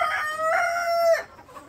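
A Sonali rooster crows nearby in one clear, drawn-out call, preceded by short clucking notes from the chickens and followed by quiet.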